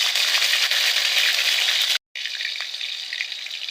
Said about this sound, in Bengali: পেঁয়াজ বাটা দিয়ে দিচ্ছি